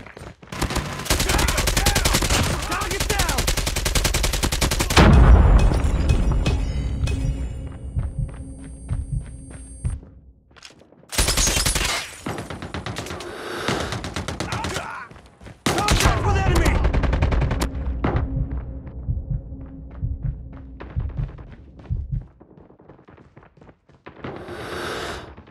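Bursts of automatic gunfire from a deployed sentry gun in the Call of Duty Mobile game, loud sustained volleys broken by short gaps, with game sounds between them.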